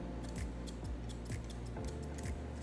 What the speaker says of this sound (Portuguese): batendo a tesoura na ponta do fio, eu já consigo disfarçar e tirar essa marcação